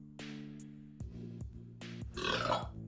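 A person burps after drinking County Cider pear cider, giving a string of short croaky belches with brief gaps between them and a final longer, rougher one, close and fairly quiet, with no talking.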